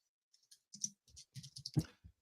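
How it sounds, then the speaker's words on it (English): Fast, irregular clicks of fingers typing on a computer keyboard, close and quiet, in short uneven bursts with brief pauses. "I'm typing a hello to the group right now."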